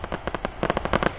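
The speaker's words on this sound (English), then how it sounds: "Here's the fireworks." Fireworks at the Star Spangled Spectacular in Lima, Ohio, a rapid string of sharp crackling bursts and pops firing in quick succession, loud and fairly close.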